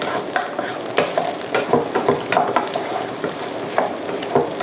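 Eggs stir-fried with shrimp in a pan give close, loud sizzling, with frequent quick spatula scrapes and taps in an irregular rhythm throughout and no talking.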